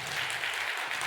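Applause from a congregation at a Sunday church service, a brief burst of steady clapping that holds for the whole moment.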